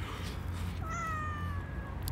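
A cat near a seaside fish market meows once, drawn out and moderately close, over a constant low outdoor rumble.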